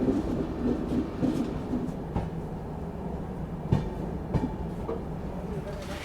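A Humsafar Express train runs around a loop in Assam, its steady rumble heard from inside a carriage with periodic rail-joint clacks and faint background voices.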